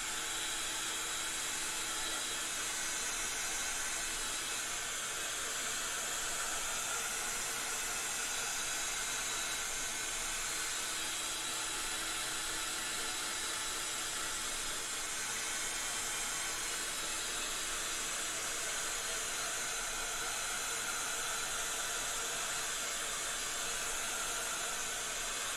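Hair dryer drying a craft project, a constant close, loud blowing hiss with a steady motor whine that runs without a break and with no voices.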